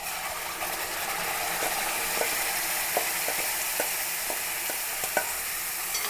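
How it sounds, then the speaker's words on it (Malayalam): Ground masala paste frying in a pan, a dense continuous sizzle with light spatter, steady and close, punctuated by soft rhythmic clicks of a spoon stirring; no voices. "ഇതിലേക്ക് നമുക്ക് അരച്ച് വെച്ചിരിക്കുന്ന അരപ്പ് അങ്ങോട്ട് ഇട്ട് കൊടുക്കുക"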